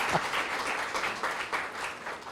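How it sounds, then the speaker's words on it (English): Audience members clap at a book launch for Vikas Swarup's novel The Girl With The Seven Lives, a modest, fairly soft patter of handclaps with individual claps standing out in a loose rhythm. "Many people in the audience will clap."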